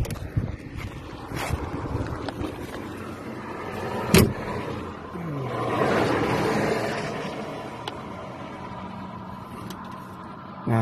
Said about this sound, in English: cars coming down